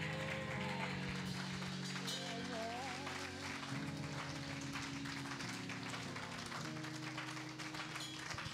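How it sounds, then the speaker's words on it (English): A church congregation claps hands in praise during a service, a dense steady wash of clapping that runs the whole stretch over sustained music. "give God the best hand clap of praise you can give him"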